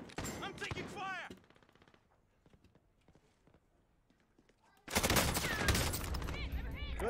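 Rapid bursts of automatic gunfire in the video game Call of Duty, loud and close, with a dense volley at the start, a quieter stretch of scattered shots, then a sustained heavy barrage to the end.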